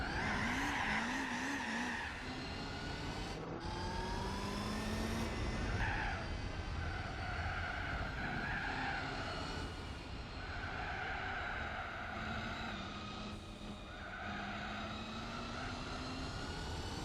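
In Gran Turismo 4 a racing car's engine wails and howls as its tires spin and skid, with several rising and falling revs over a constant roar of wheel spin, loud and near with no talk.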